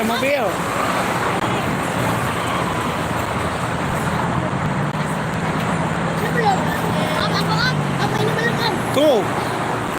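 Car traffic rolls steadily along the Jakarta-Cikampek toll road on a Sunday afternoon, a continuous loud roadway rumble with passing vehicles and faint voices in the background.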